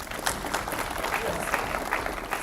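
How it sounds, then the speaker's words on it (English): A conference audience at the SREday Hyderabad 2026 opening keynote applauds a speaker: a brief, fairly quiet wash of many hands clapping at a steady density. "Let's have another round of applause for him."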